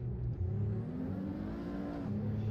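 Race car engine in the Assetto Corsa driving simulator, a steady loud drone with rising and falling pitch as the car accelerates and brakes, continuous throughout with no talk.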